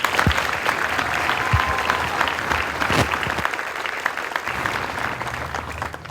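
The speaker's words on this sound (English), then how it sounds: "How about we give them a round of applause?" Audience at a military basic training graduation ceremony breaks into sustained applause, a dense steady wash of clapping that holds for the whole stretch with a few louder claps standing out.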